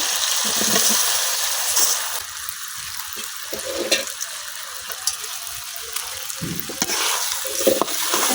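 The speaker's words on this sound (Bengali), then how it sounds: "মশলা কিন্তু কষানো হয়ে গেছে, একেবারে উপর দিয়ে তেল ছেড়ে দিচ্ছে। এখন দিয়ে দেন চাল আর ডাল।" Rice and lentils drop into spices frying in oil in a pan, a loud sizzling rush followed by steadier frying with intermittent stirring and scraping, close by and with no talking.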